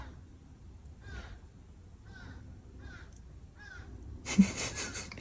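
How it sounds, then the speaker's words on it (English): A crow caws outdoors four times in an even, spaced series, each call clear but moderately distant over a quiet background, followed by a brief burst of broadband noise at the end. "oh my gosh, that crow."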